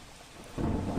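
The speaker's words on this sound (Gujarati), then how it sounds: "કેટલાક વિસ્તારોમાં ધોધમાર વરસાદ પડ્યો છે" Heavy rain pours down on the streets of Ahmedabad as a dense, steady roar that grows louder partway through and continues at full strength.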